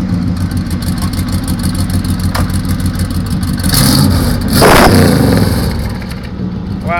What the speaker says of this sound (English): You have to give it a few revs to move.